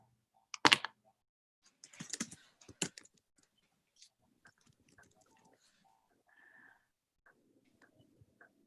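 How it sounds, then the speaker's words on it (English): A computer keyboard is typed on in quiet, scattered bursts of clicky keystrokes, with louder clusters early and sparse taps later. "I'm typing, still typing."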